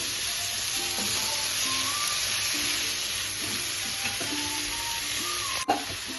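Prawns sizzling steadily in a pan of masala with tomato, coriander and mint, with a constant close frying hiss and occasional stirring scrapes and clinks.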